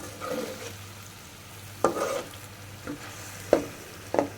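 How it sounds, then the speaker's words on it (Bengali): Fried tilapia pieces go into a thick simmering curry gravy with taro stolons. A soft sizzle continues throughout as a spoon stirs with a few sharp scrapes and clacks, and no one speaks. "মাছ ভাজাটা হয়ে গেছে মাছ ভাজাটা দিয়ে দিলাম"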